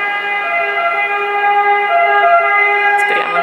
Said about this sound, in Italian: Quindi c'è un'ambulanza.